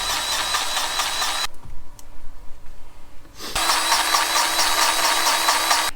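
A hand grease gun pumps grease into the sprocket of a corn sheller, giving loud, dense mechanical ratcheting at first, then a quieter gap with a few faint clicks, before the loud clatter resumes.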